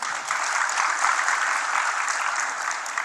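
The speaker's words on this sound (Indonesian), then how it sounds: "Jangan cepat tepuk tangan." Steady, dense crowd applause fills a political rally speech in Indonesia, loud and continuous for about three seconds with no break.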